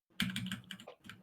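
Rapid clicking keystrokes on a computer keyboard, a short close burst of several taps with a brief pause before a few more.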